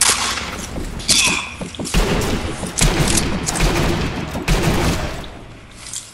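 Gunfire in the video game Sniper Elite V2 multiplayer, several loud, sharp shots and rapid bursts with thuds and booms scattered across the stretch, some overlapping in quick succession.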